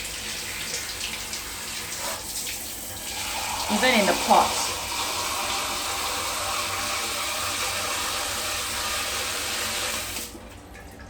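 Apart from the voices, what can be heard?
water poured into a Hoya pot to flush out ants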